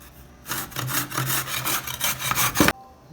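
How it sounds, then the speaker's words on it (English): Carrots grated by hand on a grater, making a run of quick rhythmic rasping strokes up close for about two seconds before stopping abruptly, with no voices. "we're going to be grating the carrots well"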